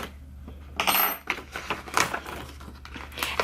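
Printed mermaid scale heat transfer vinyl being peeled off its carrier sheet, starting from a corner, produces close crinkling, crackling and rustling that comes in uneven bursts over a steady low background hum.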